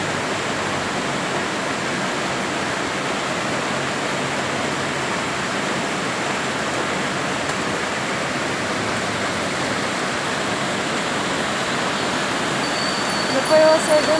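Steady rain falling on potted succulent plants outdoors, a dense, even hiss of drops that holds constant throughout with no breaks.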